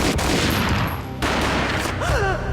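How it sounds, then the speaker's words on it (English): Gunfire in the Max Payne video game: a loud burst of shots at the start with a sharp crack near the one-second mark, followed by ringing tones and a tense game score. "A gunshot boomed"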